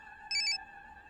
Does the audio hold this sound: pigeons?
no